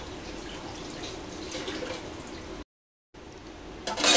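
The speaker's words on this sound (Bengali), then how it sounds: "এবার অল্প করে একটু জল দিয়ে দিচ্ছি।" Water poured into a pan of banana flower being cooked for a vegetarian dish, a steady close trickling splash that breaks off briefly and then resumes.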